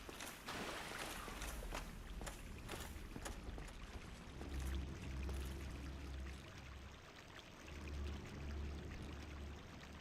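A player character wades through water in Dark Souls, making rhythmic sloshing and splashing strokes that are loud and close at first, then settle into softer swishes and low watery churning.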